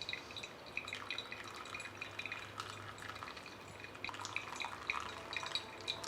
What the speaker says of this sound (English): the coffee is slowly percolating down